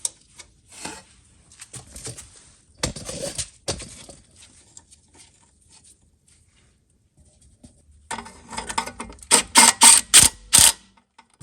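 A ratchet wrench turning a 12mm bolt on a 2006-2011 Honda Civic during passenger-side axle work, with scattered clicks and handling noise and then a burst of rapid ratcheting strokes near the end.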